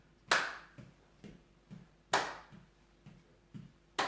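Hand claps from a seated exercise class ring out in a steady rhythm, with two loud, sharp claps standing out among softer, quieter claps and taps, and no talking.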